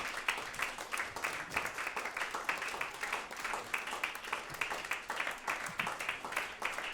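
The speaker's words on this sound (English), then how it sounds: "Let's get them all up here for another round of applause." Audience applause for the performers at a concert celebrating Asian American Pacific Islander Heritage Month, steady dense clapping held at moderate, fairly distant level throughout.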